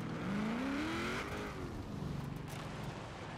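Race car engine in Forza Horizon 4 played with a Logitech G920 wheel, a faint steady engine drone whose pitch climbs and then falls as it revs, with a rattling texture toward the end and no talking.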